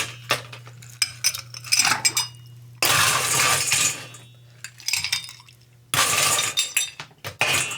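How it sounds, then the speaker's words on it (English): Ice cubes tumble into a glass for a Beach Bum cocktail in three loud, rattling bursts, clinking and knocking against the glass with short pauses between pours. "Let's put some ice in there."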